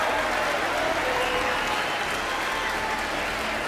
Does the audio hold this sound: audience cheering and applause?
yes